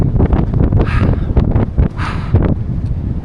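Strong gusting wind on a mountain trail buffets the microphone in heavy low rumbling blasts, loud and continuous for the whole stretch with surging peaks.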